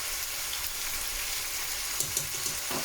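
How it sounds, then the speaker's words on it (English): Lamb dhansak simmering in a family-size pot over low-medium heat gives a steady soft sizzle and bubbling, with a few louder splutters near the end, heard alone without talk. "let it cook on low medium heat until the meat gets softened"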